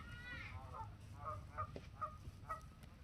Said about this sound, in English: We hear geese so much, it's almost like just listening to cats fight.